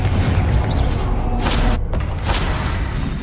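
Bombarda explosion spell cast in the Hogwarts Legacy video game, a sustained booming blast with crackling bursts over a dense low rumble, loud and continuous for about three seconds.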